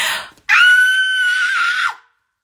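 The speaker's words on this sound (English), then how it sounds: "Sorry, just scream." Woman screaming, one loud sustained high-pitched scream of about a second and a half, close to the microphone, preceded by a brief noisy sound and ending abruptly into silence.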